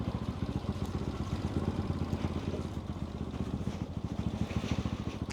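A motorcycle on a rough off-road track on the ride from Kathmandu to Syabrubesi, its engine throbbing in a rapid, steady pulse close up with rattling clatter over the bumps.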